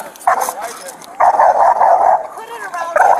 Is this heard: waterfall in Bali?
no